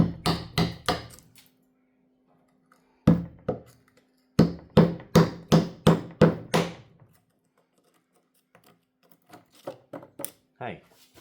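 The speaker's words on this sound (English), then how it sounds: "let's try tapping this middle core out with just a screwdriver or whatever you got and a hammer" A hammer striking a screwdriver to crack out the core of a bonsai pot, delivering bursts of sharp, ringing taps in quick rhythmic runs separated by pauses, close and loud, with lighter taps at the end.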